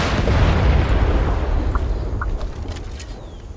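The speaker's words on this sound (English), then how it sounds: "Wow, that was a big kaboom" A big explosion in Far Cry 5: a heavy, deep rumbling blast that starts loud and slowly fades away over several seconds, with faint debris pops late in the decay.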